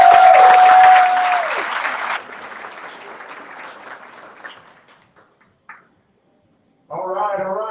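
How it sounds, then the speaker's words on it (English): Audience applause at a virtual kids' telethon, loud clapping that fades over a few seconds, trailing off before a voice speaks. "thanks so much for your applause"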